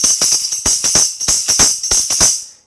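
A khanjari-style tambourine is played in quick rhythmic patterns, sharp jingle rattles over slaps of the frame drum, close and loud, with no talking.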